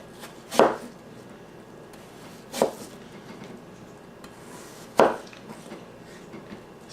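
A knife cuts apple slices on a board, making three sharp, separate chops spaced about two seconds apart against a quiet room.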